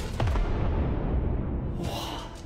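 A fiery magical explosion in a fantasy audio drama, set off by a thrown paper talisman as a giant fox demon collapses: a dense, sustained low rumble with a whooshing burst that swells and then fades, with no voices over it.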